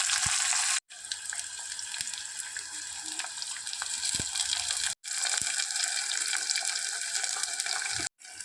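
Chopped onions frying in oil with mustard and fenugreek seeds for an egg and drumstick tamarind curry, a loud, even sizzling hiss with faint pops, broken by two or three abrupt cuts.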